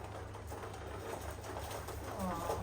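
Pigeons feeding on leftover food near a home, soft low cooing from several birds under a constant hiss of outdoor background noise, faint and fairly distant.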